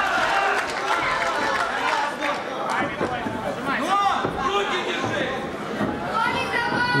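Spectators shouting advice from the stands during a combat fight, a busy murmur of crowd voices and scattered calls running steadily throughout over a continuous background din.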